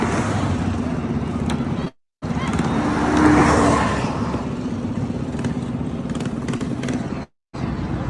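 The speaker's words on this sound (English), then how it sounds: "Those are regular cars." Regular cars driving along a road amid a street protest in Los Angeles, a steady loud traffic rumble that swells near the middle, with two brief dropouts.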